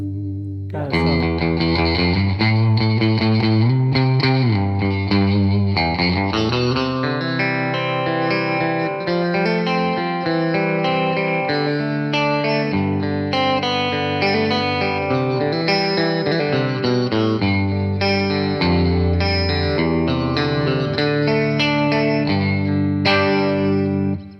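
Electric guitar, a 1960s Fender Jaguar, with a bright, twangy surf tone, washed in chorus and echo, playing a continuous riff and chords for the whole stretch.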